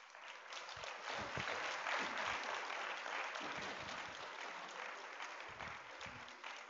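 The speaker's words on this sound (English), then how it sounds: "And can you please give them a round of applause?" Conference hall audience applauds at an anniversary commemoration of the Economic Commission for Africa, a sustained, moderately distant wash of clapping from a large crowd with a few low thumps underneath.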